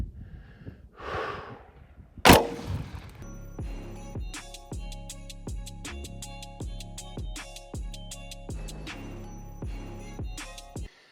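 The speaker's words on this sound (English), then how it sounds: "All right, let's shoot it with the number 3 shot." An Umarex Primal 20 gauge airgun shotgun loaded with number 3 shot fires once with a sharp, fairly close report. Soft breathing-like noise comes before it and a run of quieter, regular mechanical clicks follows.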